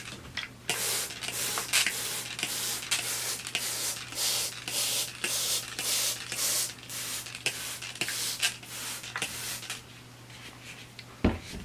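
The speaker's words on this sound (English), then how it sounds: "I'll just rinse it with the sprayer." Water sprayer misting a Ficus religiosa bonsai tree in repeated short bursts, a steady hissing spray broken by brief pauses, close and fairly loud with no talking.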